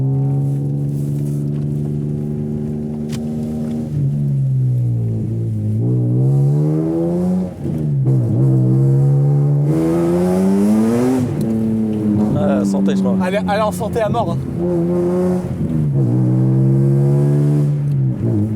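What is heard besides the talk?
BMW M5 engine revving loudly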